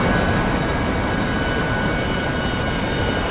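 An F-18 jet engine in the DCS flight simulator roars loudly and steadily, a dense, unbroken engine rumble with a faint high whine running through it.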